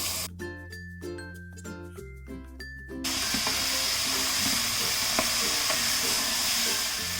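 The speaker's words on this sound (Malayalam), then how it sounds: "നമ്മൾ കുതിർത്ത് വെച്ചിരിക്കുന്ന ഡ്രെയിൻ ചെയ്ത കടല ഇതിലേക്ക് ഇട്ടിട്ട് ഇളക്കി കൊടുക്കാം." Drained soaked chickpeas and tomato stirred into a sizzling masala in a pan, a steady bright hiss of frying with soft scraping taps of the spoon, following a brief stretch of music at the start.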